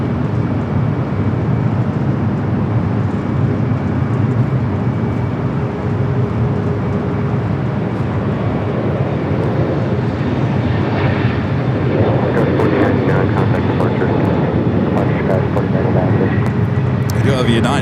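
A United Boeing 757 jet takes off at LAX, its engine roar a steady, loud rumble building slightly in brightness toward the end, with a person talking over it throughout.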